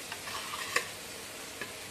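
Boiled raw mango pieces for pickle sizzle in a hot pan during tempering, a soft continuous fry with a few sharp ticks of stirring against the pan.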